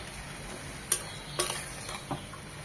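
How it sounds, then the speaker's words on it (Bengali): Botta (bantwa) greens are stirred and fried in a pan with a utensil, giving a faint low sizzle broken by a few sharp scraping clicks spaced irregularly across the quiet stretch. "কিছুক্ষণ পর পর নেড়ে চেড়ে একদম ভাজা ভাজা করে নেব।"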